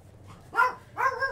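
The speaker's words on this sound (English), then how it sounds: "Oh, dog." A dog gives two close, fairly loud barks about half a second apart, with quiet room tone around them and no talking.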